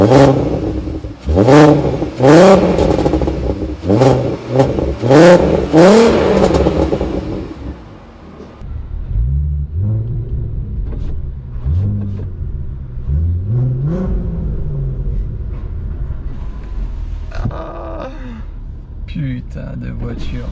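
A Volkswagen Golf 4 R32 revs hard and accelerates in a series of loud, rising engine pulls, then settles into a lower, steadier drone of cruising with occasional gear-change rises, heard close up.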